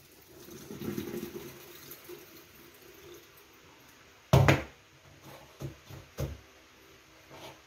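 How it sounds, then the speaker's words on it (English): Boiled potatoes drained for a shepherd's pie: a soft rush of pouring water into a sink, then a sharp clatter of a pot and a few lighter knocks afterward, fairly faint overall. "we're going to drain the potatoes"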